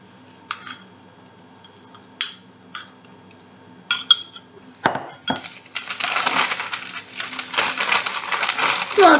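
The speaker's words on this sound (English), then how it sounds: "I'm going to stir it up." A spoon stirring a thick chocolate mixture in a bowl in a home kitchen: a few sparse clinks and taps at first, then a dense run of scraping and clattering strokes that grows louder toward the end.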